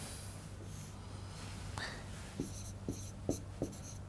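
A pen writing out a maths solution by hand on paper, soft scratchy strokes and a few distinct taps and ticks over a faint steady room hum, close and quiet.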